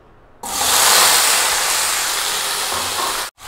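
Potatoes hit hot oil and set off a sudden loud, steady frying hiss that holds for about three seconds before cutting off abruptly.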